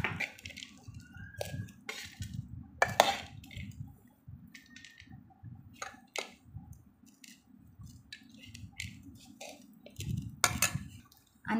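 Dry Malvani-style bhel scraped from a pan into a dish: scattered crisp scrapes and clicks of a spoon against metal come in irregular bursts over a quiet, low rustling bed, close and fairly soft.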